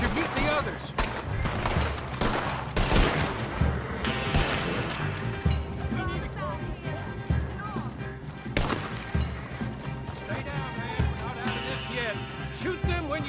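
Gunfire in the Red Dead Redemption 2 online game, with repeated sharp shots and crashes over a busy bed of game sound and voices.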